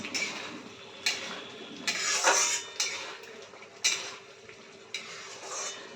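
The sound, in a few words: mixing prawn malai curry with a spatula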